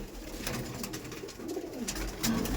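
Aggressive Madrasi pigeons in a loft make soft, low coos with a few sharp flutters and scuffs, close and moderately loud over a steady background murmur, and no one speaks.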